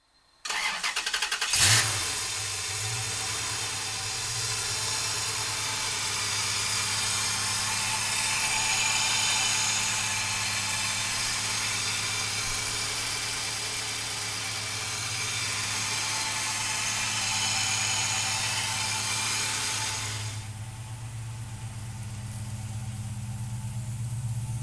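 1968 Chevrolet Camaro with an LS7 V8 cranking and firing up, then settling into a loud, steady, rumbling idle with a deep low-end throb that eases slightly near the end.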